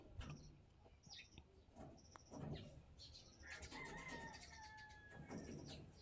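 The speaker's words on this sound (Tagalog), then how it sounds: "Maraming ibon." Several birds chirp and call in short bursts, scattered and fairly faint, with some wing flapping in the background.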